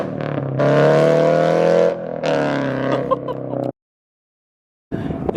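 A Subaru FRS with a loud aftermarket exhaust and unequal-length headers revs hard close by in two long bursts with a deep, throbbing rumble, then cuts to silence before a brief restart.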